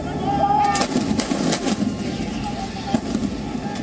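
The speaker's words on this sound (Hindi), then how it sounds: "ये तोप कहीं भी आग उगलने के लिए तैयार है" Booming blasts of heavy artillery fire from the ATAGS howitzer gun salute at the Red Fort on Independence Day echo over a steady rumbling background, several sharp reports spread across the stretch with no speech.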